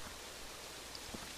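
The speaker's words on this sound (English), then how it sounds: "we are wandering in the rain, still through some Shire woods at the moment" Steady rain falling in the Shire woods of a Minecraft Lord of the Rings world, a faint, even hiss of drops with a few soft isolated patters and no voices.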